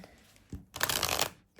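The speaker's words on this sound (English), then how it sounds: "I shuffle part of it, and then I split it" A tarot deck is shuffled in part, giving a brief soft riffle and then a close, loud burst of cards flicking together, with a short tap at the end.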